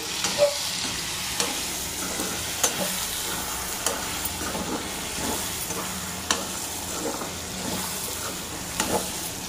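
Two small tomatoes sauté in a pan for chicken fry, giving a steady close sizzle with repeated clinks and scrapes of a spoon stirring throughout, and no speech.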